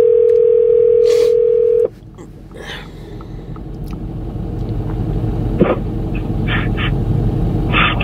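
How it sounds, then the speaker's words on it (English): A steady telephone dial tone sounds briefly, then cuts off and gives way to a low rumbling background with a few short tones and faint noises. "Let me call my friend Ra back."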